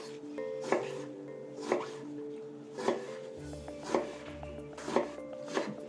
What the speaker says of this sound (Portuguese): Vou começar por cortar a berinjela aos cubinhos.